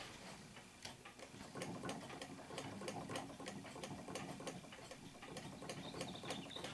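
An 1879 B. Eldredge automatic sewing machine runs steadily, its needle mechanism giving a fast, even clicking rhythm over a continuous mechanical whir, close and moderately loud with no talking.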